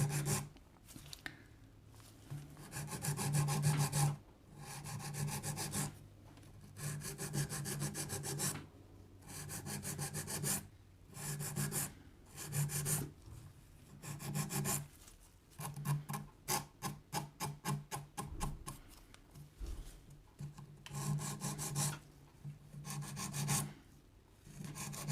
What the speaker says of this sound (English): And now I'm going to use my 80 grit file.